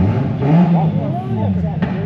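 A drift car at an Irish Drift Series event, its engine droning and revving over a rumbling crowd with harmonic sweeps. People talk loudly nearby.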